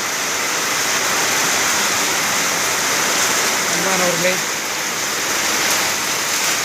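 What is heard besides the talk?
summer rain falling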